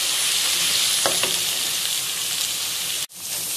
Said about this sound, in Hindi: अब हम इसके अंदर 2 टेबलस्पून अदरक लहसुन का पेस्ट ऐड करेंगे और इसको भी फ्राई कर लेंगे